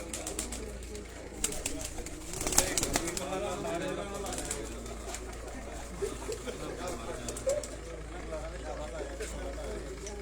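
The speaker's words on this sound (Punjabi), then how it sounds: "ਉਸਤਾਦ ਸਲਾਉਦੀਨ ਸ਼ਹਿਰੀਆ ਦੇ ਘਰ ਦਾ 72 ਨੰਬਰ ਹੈ ਜਿਹੜਾ ਚੀਨਾ ਕਬੂਤਰ" A Cheena pigeon wearing ring number 72 coos softly amid faint wing flutters, with a steady low hum and people talking nearby throughout.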